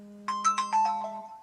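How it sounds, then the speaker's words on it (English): A mobile phone ringtone plays a short run of bright melodic notes, fairly close and clear, over a steady low electrical hum with no talking. "I'm sorry, that's my phone."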